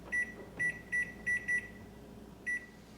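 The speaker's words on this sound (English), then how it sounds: "Next, I'm gonna set my timer for 25 minutes." Kitchen timer beeps as it is set to 25 minutes while Mexican meatball soup cooks: six short, clear electronic beeps, five in quick irregular succession and one more after a pause, in a quiet kitchen.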